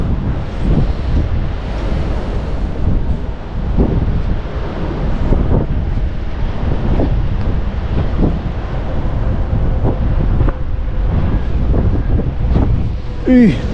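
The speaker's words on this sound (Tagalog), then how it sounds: "Grabe, taas ng hangin." Strong, cold wind at a fishing spot buffets the microphone in a constant roar, with faint voices and water sounds buried underneath.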